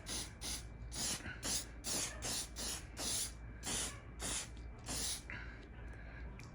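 Repeated short bursts of leather protectant spray mist onto the bottom of an expensive leather bag, about a dozen evenly spaced hissing pulses, close and fairly loud, with no talking.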